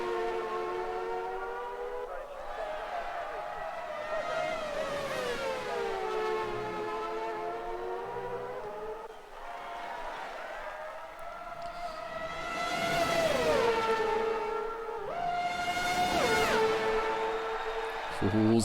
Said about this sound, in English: Skins having a run on the Ferrari. T-Mac with the inside line. McLaren having the better exit